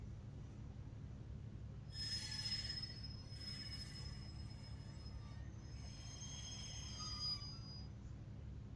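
Train brakes squealing in Train Simulator 2019 on the North Lincolnshire route, a one-coach train giving thin, high metallic squeals in several bursts over a low rumbling of wheels and engine.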